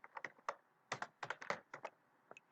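Quick bursts of typing on a computer keyboard, crisp close key clicks in an irregular rhythm with short pauses, quiet room and no speech.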